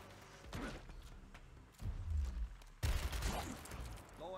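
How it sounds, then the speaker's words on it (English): Bursts of rifle fire and heavy impacts from the video game Gears Tactics, with rapid shots and booming thuds during a combat mission, loud against a low background. "Blowing rounds."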